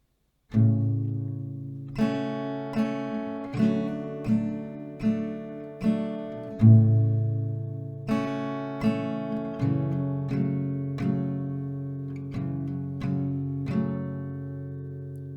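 Slow acoustic guitar playing, with plucked chords and notes ringing out one after another at an unhurried, steady pace, close and clear with no voices.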